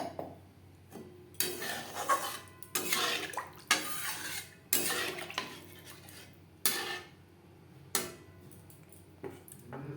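Water added to a spiced sour yogurt gravy in a pan over a low flame for doi ilish, heard as a series of intermittent splashing, clinking and stirring bursts, close and moderately quiet, with no talk.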